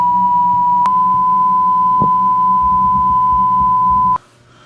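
A loud, continuous censor beep holds one steady pitch for about four seconds, with muffled sound beneath it, then cuts off abruptly to near quiet.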